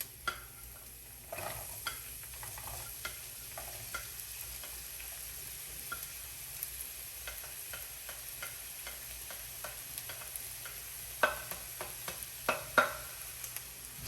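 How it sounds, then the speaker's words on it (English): Garlic and onion sautéing in a pan for a homemade lasagna, a soft steady sizzle with scattered clicks and scrapes of stirring, quiet and close with no talking. "Stir it a bit, let it saute."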